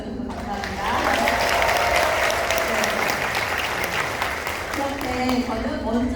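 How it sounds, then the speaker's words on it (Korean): Sustained applause from a seminar audience greeting a lecturer, a dense, loud wash of clapping that holds steady for about six seconds, with faint voices mixed in. "박수 주셔서 감사합니다"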